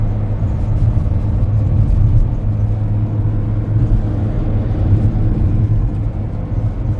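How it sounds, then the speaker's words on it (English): A camper van drives along a snowy road in Finland, heard from inside as a steady loud low engine and road rumble that stays even throughout. "Now we are driving."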